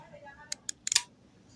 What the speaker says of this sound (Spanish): ese clic nos indica que ya entró en modo de frío